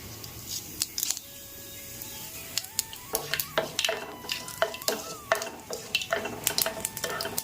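Mustard seeds and cumin fry in hot oil for an egg curry, crackling and popping in quick, sharp bursts over a low sizzle. The sound is close, with occasional light clinks of a utensil and no talk.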